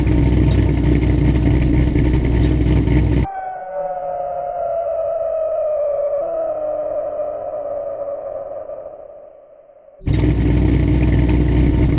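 An LS-swapped 1987 Mazda RX-7 with a Texas Speed cam rumbles loudly up close, drops to a quieter tonal whine, then returns to a heavy rumble.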